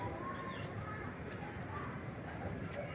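Pigeons coo softly in a loft, faint and low beneath a steady background hum, with occasional distant bird calls.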